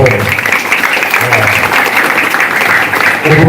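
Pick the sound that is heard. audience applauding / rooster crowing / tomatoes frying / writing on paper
audience applauding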